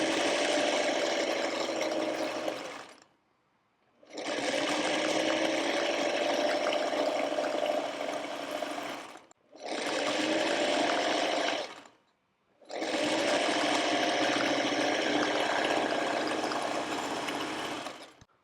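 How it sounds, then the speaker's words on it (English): A sewing machine stitches a quarter-inch seam through layered quilting fabric in four long continuous runs separated by short pauses, steady and close with no talking. "Now let's take the sewing machine and sew a 1/4 of an inch on either side of that line."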